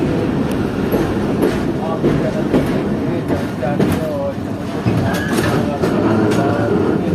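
Passenger train rolling across a rail bridge, a steady loud rumble with rhythmic clicks and clanks from the wheels throughout, heard from on board.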